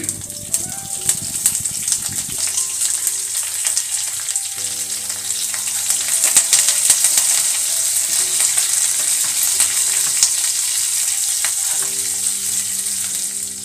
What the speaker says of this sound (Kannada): ಈಗ ಹಸಿ ಕರಿಬೇವು ಸೊಪ್ಪನ್ನು ಒಗ್ಗರಣೆಗೆ ಹಾಕ್ಕೊಳ್ತಾ ಇದ್ದೀನಿ.